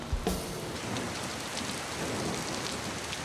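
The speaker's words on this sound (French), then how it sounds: "n'aime pas sortir quand il pleut" Steady rain falls continuously across the whole stretch, a soft even hiss with no voices, and a small knock near the start.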